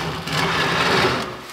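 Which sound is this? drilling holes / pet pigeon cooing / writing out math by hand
drilling holes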